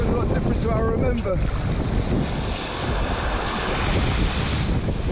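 Ocean waves breaking along the shore at a kitesurfing spot, a continuous loud rumbling wash mixed with heavy wind buffeting the microphone, with a voice briefly audible early on.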